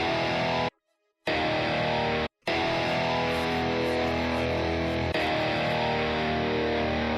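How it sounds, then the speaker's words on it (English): Distorted electric guitar plays sustained, effect-laden tones, briefly cutting out twice near the start before continuing. "Let me add some effects to this electric guitar, Loki."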